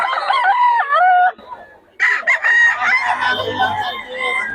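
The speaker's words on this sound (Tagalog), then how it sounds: "Mga stag yung dala-dala ni Boss Perry" Young roosters (stags) crow repeatedly at close range, loud stretched calls in two bursts with a brief gap, over a low background hum, with no voices.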